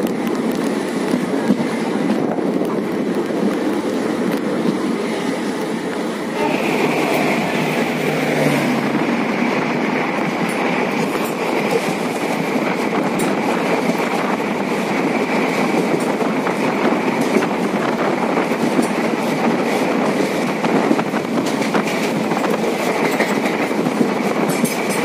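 Devagiri Express train on a monsoon run, wheels rolling steadily on rails in a continuous clickety-clack rumble, loud and close throughout, with no voices.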